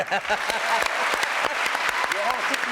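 A television studio audience claps for a host, sustained applause with distinct individual claps, while voices talk over it.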